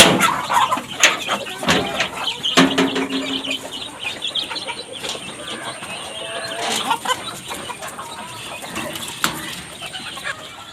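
Chickens, not native breeds, cluck and squawk inside a large poultry coop, with irregular close calls, occasional wing flaps and rustling, and a brief voice now and then.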